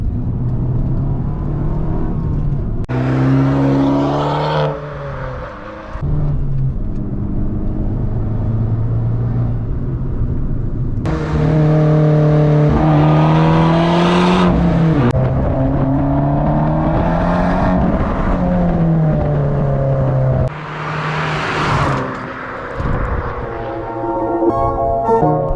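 An Abarth 595 Competizione driven hard on a race circuit, its small engine revving loudly and steadily, with the pitch climbing and dropping through repeated gear changes. No one speaks.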